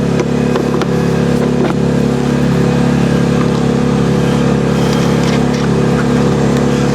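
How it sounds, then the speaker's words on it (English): An American-brand small engine idles steadily during maintenance on an HY14C or HY16C unit, giving a constant loud mechanical drone with a low hum and light clatter and no talk over it. "Also, it's powerful engine."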